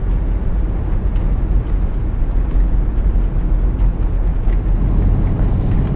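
A VDL 148 tour bus engine in Tourist Bus Simulator on a trip from Corralejo to the airport, a steady, loud, unbroken low drone with wind-like rush and no voices.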